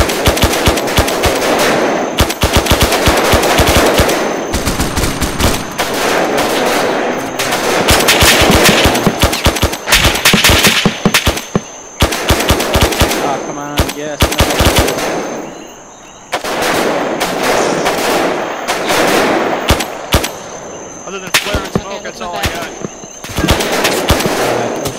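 Rapid bursts of gunfire rattle almost nonstop during a military simulation operation styled as a Viet Cong mission, loud and close, with only brief lulls and voices talking in between.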